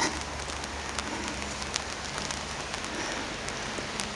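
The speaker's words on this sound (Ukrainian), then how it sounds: "бо дощ збільшується" Steady rain getting heavier, pattering on a surface, a dense hiss with occasional sharper drops, fairly soft and constant throughout.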